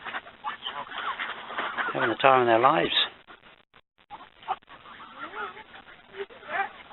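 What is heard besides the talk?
Canada geese honking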